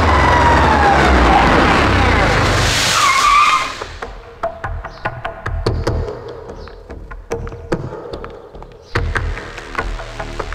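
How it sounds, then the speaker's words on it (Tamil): A car pulls up in a Tamil film scene, its loud engine and tyre skid filling the first few seconds before dropping away to scattered clunks and door-like knocks nearby. "வண்டி வந்துருச்சு"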